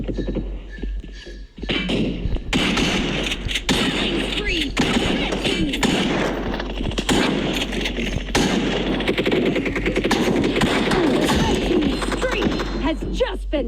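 Rapid automatic fire from an AW gun in an online shooting video game comes in loud, dense bursts of rattling shots and thuds that last almost the whole time, after a quieter opening moment.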